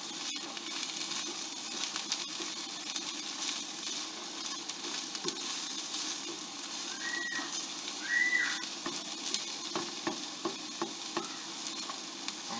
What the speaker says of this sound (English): you're going to get these in here, and the heat is going to start to cook these